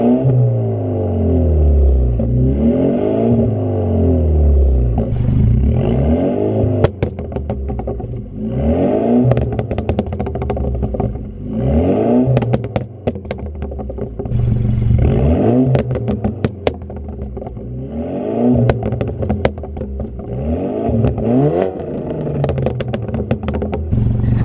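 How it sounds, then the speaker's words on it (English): A BMW F30 on a 93 octane stage 2 aggressive custom burble tune revs repeatedly, each loud rise and fall of the engine followed by crackling exhaust pops, in a rhythmic series of pulls heard up close. "This is still the 93 octane stage 2 aggressive custom burble tune."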